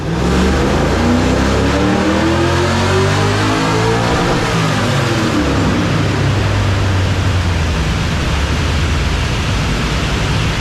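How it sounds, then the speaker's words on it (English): A drift car's engine revs hard on a dyno, a loud, continuous roar with rising and falling harmonic sweeps as the revs climb and drop, filling the whole stretch with no talking. "I better put a sneaky little dyno run in here"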